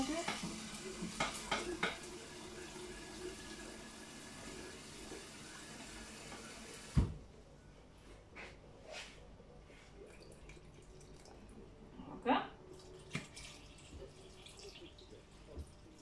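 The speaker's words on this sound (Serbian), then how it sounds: "Evo ovako, dajmo još vode." Water is poured into a pot of sarma, stuffed cabbage rolls with rice, giving a brief bright splash and gurgle, followed by quieter drips and clinks of the pot in a home kitchen.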